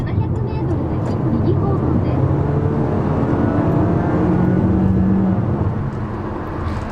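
Honda WR-V engine climbing to about 5500 rpm under acceleration on the road, heard from inside the cabin as a steady, rising drone with faint tonal whine beneath a person talking.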